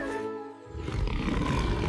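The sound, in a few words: cartoon T-Rex dinosaur roar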